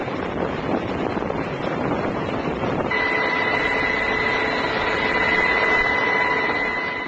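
Helicopter arriving to pick up a mountain party in the Zelengora range, heard as a steady loud rotor and engine roar mixed with wind buffeting on the microphone, with a sustained whine rising in over the second half.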